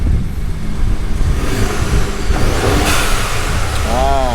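A 2015 Ford F-150 EcoBoost with a vent-to-atmosphere plug revving, a loud continuous engine and road roar with a rising whoosh and whistle near the end, close to the microphone.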